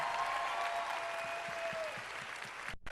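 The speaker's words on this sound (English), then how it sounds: "give her a round of applause" Audience applause at a panel event, a steady wash of clapping from a crowd that fills the moment alone and holds evenly before cutting off abruptly near the end.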